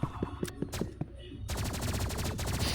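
Gunfire in the Roblox game Rivals comes as a few quick separate shots, then a dense, continuous burst of rapid automatic fire. It sounds close, loud and compressed, with no talking over it.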